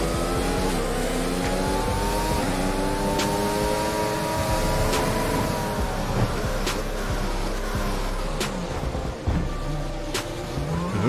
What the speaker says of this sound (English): Smog's gonna do a couple donuts there